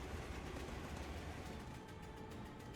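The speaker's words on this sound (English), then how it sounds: "We'll be on the roof of a speeding train." A speeding train in the Digimon Story: Time Stranger video game rumbles steadily, a dense low roar with a faint rhythmic rail clatter that holds loud and unbroken throughout, with no voices.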